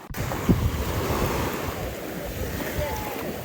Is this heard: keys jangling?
no